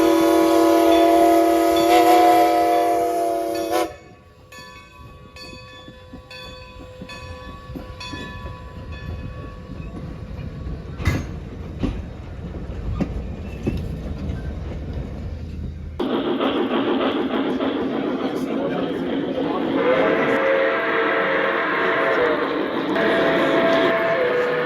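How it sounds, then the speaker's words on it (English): Model trains running at a York train show, heard as a loud rumble at the start, then quieter, irregular clatter and mechanical hum with a few sharp clicks, before a steady, louder rolling drone returns. "let's go ahead and run some trains."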